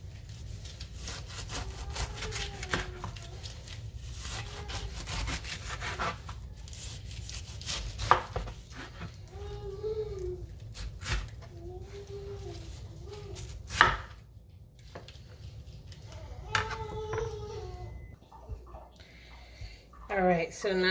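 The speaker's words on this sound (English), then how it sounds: "I'm going to start off by slicing the skin off" A knife slices the skin off a whole pineapple in repeated rough, sawing strokes with sharper cuts scattered throughout, while a voice talks intermittently in the background.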